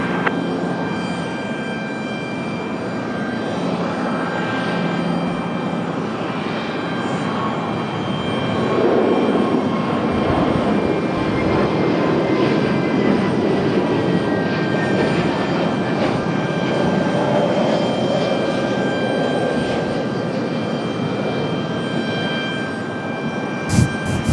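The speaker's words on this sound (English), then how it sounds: "Delta from Boston, that A220." Delta Airbus A220 jet arriving from Boston at Raleigh-Durham airport, a steady broad engine roar that swells in the middle and holds at a moderate distance, with no talk over it.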